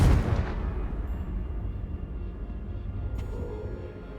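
Confringo fire spell explosion in Hogwarts Legacy, a loud burst at the start that decays into a low rumbling tail, with a faint crackle later.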